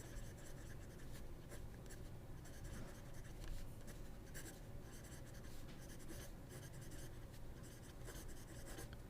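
A steel-nib fountain pen, a large number 8 size nib, scratching across paper in close, continuous strokes with small rhythmic scrapes.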